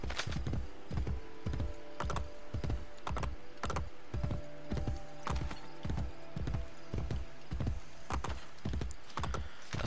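Horse hooves clip-clop at a quick, steady trot in the Assassin's Creed Brotherhood video game, the beats loud and close over a continuous bed of background ambience, with no speech.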